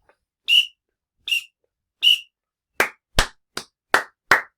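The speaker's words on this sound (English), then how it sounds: "Let's try clapping it after 4 whistles." Three sharp samba whistle blasts, evenly spaced, followed by five crisp hand claps in a quicker rhythm, close and loud with silence between each sound.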